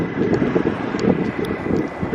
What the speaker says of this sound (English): It's less windy now.